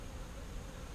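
Angry honeybees buzz around open hive frames, a dense continuous drone that fills the short moment at low volume, with no talking.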